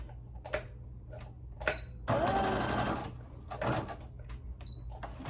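Sewing machine back stitching a fabric face mask: a few short motor bursts, then a longer whirring run, then quieter stitch pulses and light handling clicks.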